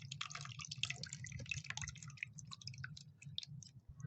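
Dirty, blackened distilled water from a six-year-old battery trickles and drips steadily out in fast, irregular wet spatters, fairly close and quiet, with no talking.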